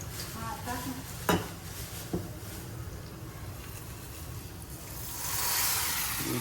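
Whole spices such as cumin and a pinch of asafoetida sputter and sizzle in hot oil during tempering, a steady close crackle with a couple of sharp clinks from the pan, swelling louder toward the end.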